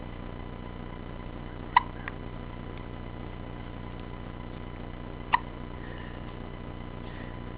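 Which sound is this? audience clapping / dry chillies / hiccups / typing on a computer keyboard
hiccups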